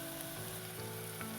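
Fish added to a pan of fried chopped onions for a children's couscous dish gives a faint, steady sizzle over a quiet low hum, brief and even, with no talking.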